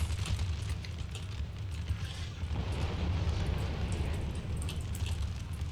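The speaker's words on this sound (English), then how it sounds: "That was a really delayed cannon." Cannon fire and battle noise from Empire: Total War, a dense continuous rumble of distant booms and crackling artillery with no clear single shot standing out, steady and fairly loud throughout.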